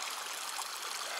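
Creek water flowing beside a trail, a steady close hiss of running stream water without pauses, heard alone with no voices.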